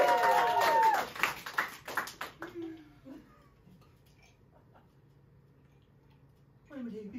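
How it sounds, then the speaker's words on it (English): An audience at an improvised theatre play claps briefly, loud at first and thinning over about two and a half seconds. A quiet pause follows, and then a voice starts near the end. "Give a big round of applause to begin!"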